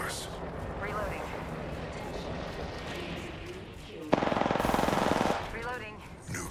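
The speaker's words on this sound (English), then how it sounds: "I'm taking shots. Opening fire." Rapid automatic gunfire in the Apex Legends video game, a dense burst of shots with explosions and game effects, with a voice talking over the action.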